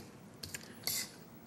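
Green onions being stirred in a pan: a short scrape and clatter of utensil against cookware, a few brief metallic clicks and one louder stirring burst, near and alone.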